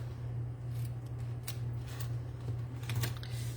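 Scissors trim cardstock for a handmade card front, a few quiet, crisp snips spread over the stretch above a low steady hum.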